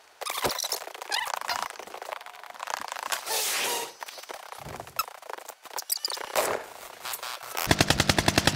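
Rapid bursts of game gunfire crack and rattle in uneven volleys, loud and close, ending in a fast regular stream of shots.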